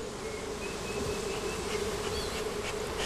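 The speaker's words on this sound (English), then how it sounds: "If we were talking about the killer bees taking over just a few hives" Africanized killer honeybees swarm around hives on the Yucatan Peninsula, making a dense, continuous buzzing drone at close range with no voices.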